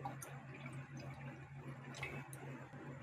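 Water is added to a cooking pot while making fruit pudding, a steady close pour with a soft splashing wash and a few brighter drips, with no talking.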